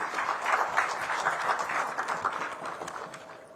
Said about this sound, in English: Please welcome with a resounding applause.